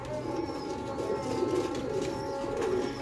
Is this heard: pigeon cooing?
yes